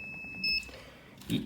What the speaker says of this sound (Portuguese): Vamos ver se ele vai dar bip, se a fonte vai entrar em proteção.